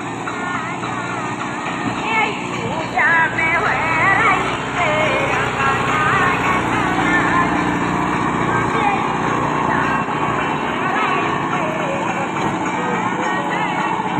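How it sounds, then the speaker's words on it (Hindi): Kubota MU5502 tractor engine running steadily in a field during a demonstration, a continuous mid-pitched drone with a busy rattle, close and loud for the whole stretch while people talk around it. "किसान के हाथों ट्रैक्टर को चलवाते हुए"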